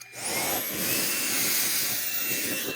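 Tineco S50 Pure One Pro cordless vacuum running as a handheld with its mini powered brush, a steady loud whir with a high motor whine held for nearly three seconds with no talk.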